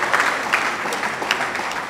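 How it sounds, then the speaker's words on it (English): A crowd at a movie release party in Nigeria claps in a burst of applause, dense and steady throughout, fairly close and loud. "Can we give him another applause for that?"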